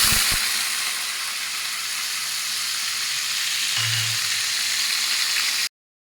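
Onion paste fries in hot oil for a cauliflower dish, giving a steady, close bright sizzle with a faint stir partway through.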